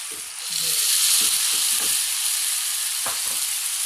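Steady loud sizzling of chickpea and egg breakfast curry frying lightly in a pan, a constant bright hiss with a few soft stirring scrapes.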